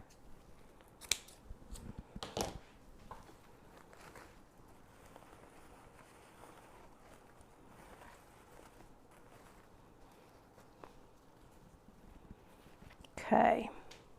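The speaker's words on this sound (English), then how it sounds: "Trimming this off just a little bit more." Scissors snip at a moss wreath in a quiet setting, a few sharp close cuts scattered through the clip, the loudest near the end, with soft rustling and faint talk between them.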